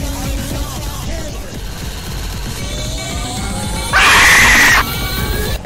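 A character in the Roblox game Dave and Bambi cart ride lets out a loud, harsh scream lasting under a second, sharply rising above the ongoing game sounds and sliding tones.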